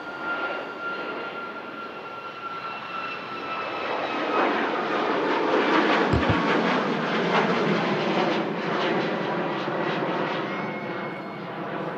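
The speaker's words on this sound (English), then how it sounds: "The next landing from Frankfurt, a flight I did in the sim yesterday. In from Frankfurt with Lufthansa, the A320." A Lufthansa Airbus A320 from Frankfurt lands at Manchester Airport, its steady jet engine roar loud and continuous, swelling slightly midway and holding a sustained whine with no talk.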